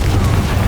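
A Confringo fire spell blasts in the Hogwarts Legacy video game, a short, dense explosive boom that fills the whole moment with a steady rumbling roar and no pause or trailing quiet.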